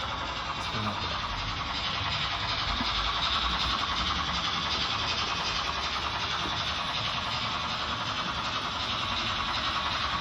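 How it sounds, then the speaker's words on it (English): HO-scale Märklin model trains run on an 11 by 21 foot layout, giving a steady, continuous close whirring rumble that holds at the same level throughout, with no clear speech. "And now the trains are going."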